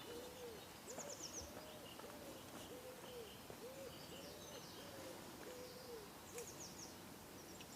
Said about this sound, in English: Can you hear the wood pigeon in the background there?